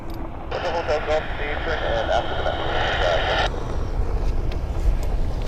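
A Cathay Pacific airliner taxis at Vancouver's YVR airport, its engines a steady, distant rumble that continues throughout while a voice talks over the middle stretch.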